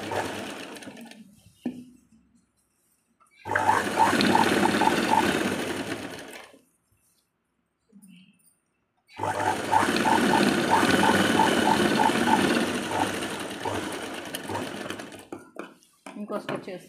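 A sewing machine runs in two long bursts of steady, fast mechanical stitching as fabric pieces are joined, separated by short pauses; a voice speaks briefly in the gaps.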